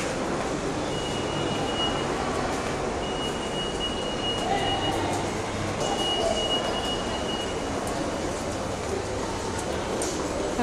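Inside a running metro train in Kolkata, a continuous loud rumble of wheels and motors carries a faint tonal whine, steady throughout the ride.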